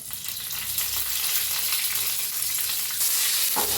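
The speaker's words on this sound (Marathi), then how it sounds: "तेल चांगलं तापलं आहे ह्याच्यात घालूया आपण हिंग थोडंसं हिरवी मिरची दोन तीन पाकळ्या कढीपत्त्याच्या" Asafoetida, green chillies and curry leaves crackle in hot oil for a tempering, a loud continuous close sizzle with no talking, the hiss swelling slightly toward the end.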